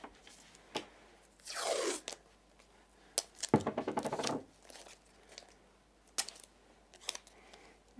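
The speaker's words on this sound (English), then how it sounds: "Now I'm going to take some masking tape and I'm going to mask off my high." Masking tape being pulled off the roll and pressed onto a card while making a handmade card, heard as two loud tearing rips followed by several quieter taps and rubs, close up with no talking.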